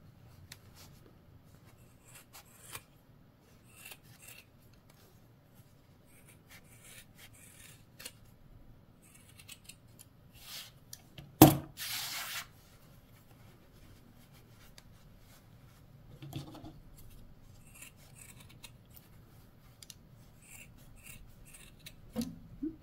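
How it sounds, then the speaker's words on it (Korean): Scissors cut yarn while a crochet winter hat is trimmed into a rounded shape, with soft, close snips and rubbing and one sharp louder cut partway through, all quiet and without talk. "이렇게 꾹 잡으시고 이렇게 둥글게 잘라줍니다."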